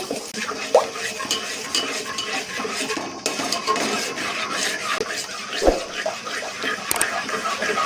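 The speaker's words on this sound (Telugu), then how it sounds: "ఈ విధంగా ఫుడ్ కలర్ వేసుకొని కలుపుకున్న తర్వాత" Food colour being stirred into hot sugar syrup for motichoor laddu, a continuous scraping and swirling of a spoon against a pan, close and steady with a few sharper clinks.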